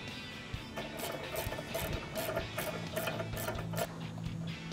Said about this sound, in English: Tighten the lock nut until the lock nut comes in contact with the flat washer